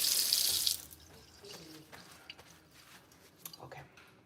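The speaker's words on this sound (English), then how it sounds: "Let me just rinse my hands off a little bit here." Tap water running as hands are rinsed in a kitchen sink, a loud brief gush that quickly stops, followed by soft drips and small wet handling sounds.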